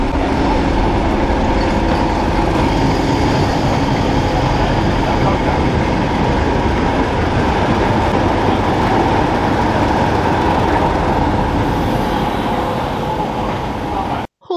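A Class 31 diesel locomotive, D5631, rumbles loudly nearby while hauling a heritage train to Sheringham on the North Norfolk Railway, its engine drone and wheel roar holding steady throughout before cutting off abruptly at the very end.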